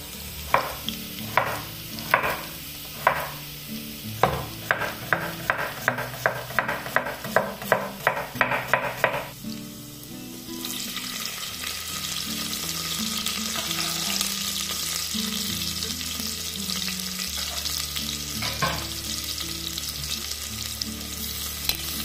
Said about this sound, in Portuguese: Vou pôr cebola pra dar uma refogada aqui junto também